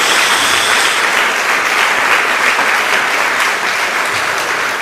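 Church congregation applauding, a dense, steady wash of clapping that fills the whole stretch at close, loud level with no break.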